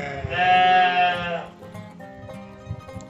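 Santa Inês sheep bleat loudly and close by in one long, sustained call, followed by quieter scattered bleats and farmyard noise.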